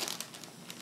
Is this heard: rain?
no